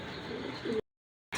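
Giribaz flying pigeons of an old napta breed coo softly in a short burst, then fall silent for about half a second before the cooing resumes briefly.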